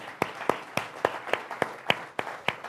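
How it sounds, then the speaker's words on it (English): Scattered claps at a tribute event for Dr. Freeman Hrabowski, about ten separate hand claps in an uneven rhythm, fairly faint and distant, more like a few individuals clapping than a full audience. "Give Jay a round of applause with you"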